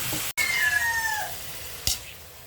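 Chicken pieces hit a hot pan of sautéed onion and ginger, giving a steady bright sizzle with a quick clatter near the start and a short knock near the end, close and unvoiced.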